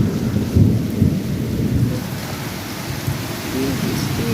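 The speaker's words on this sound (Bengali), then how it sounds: "কি বৃষ্টি হচ্ছে, মেঘ ডাকছে, বিদ্যুৎ চমকাচ্ছে।" Heavy rain pouring steadily with low rolling thunder rumbling underneath, loud and close, a dense constant wash of rainfall with swelling bursts of deep rumble.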